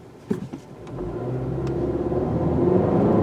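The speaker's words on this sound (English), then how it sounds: "A bit slow off the line, but once that turbo kicks in, moves along pretty good." A 2022 Honda Civic Hatchback with the 1.5-liter turbo engine accelerating, a few light clicks and thumps before the engine note swells into a steadily rising, loudening drone heard from inside the car.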